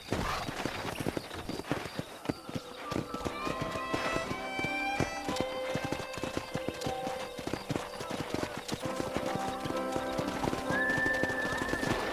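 A horse gallops in the Red Dead Redemption video game, its hooves clip-clopping rapidly and steadily up close, with neighing and whinnying over game music and ambient sound.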